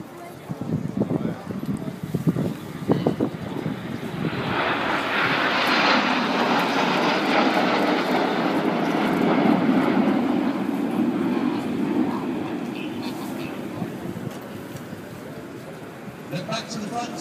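Red Arrows jets roar past during a helix smoke display at an air show, the engine noise swelling and fading in the distance while a commentator talks over it.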